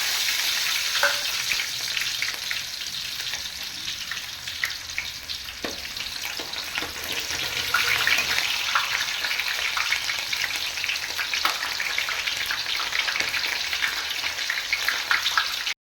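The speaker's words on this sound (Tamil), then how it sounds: "இப்போ கடுகு பொரிஞ்சிருச்சு நம்ம வெங்காயம் போட்டுக்கலாம்" Onions sizzling in hot oil with popped mustard seeds for a Catla fish curry, a loud, steady crackling hiss with scattered sharp pops and occasional stirring, close up and without talk.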